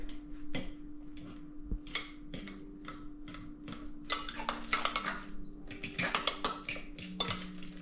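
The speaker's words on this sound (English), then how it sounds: "Then you take your fork and you just mash them." A fork mashing ripe bananas for pancakes in a dish makes quick repeated clicks and scrapes on the bowl, with wetter squishing bursts toward the end, close and fairly soft.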